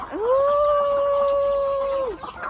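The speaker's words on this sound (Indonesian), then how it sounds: "Pulang berladang, gue mampir ke tempat ternak ayam." A single sustained call, steady in pitch, lasting about two seconds, from a chicken at a chicken farm, with faint background noise around it.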